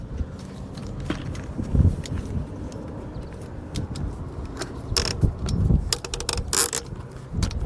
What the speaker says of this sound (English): We loosen this up. We'll kick that out. And the center mast here will fold down.